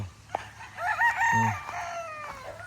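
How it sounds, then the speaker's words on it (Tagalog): Chickens and chicks on a farm call out in short, high, wavering cries and a brief lower cluck, sounding fairly close over a quiet background. "Maraming sisiw dito."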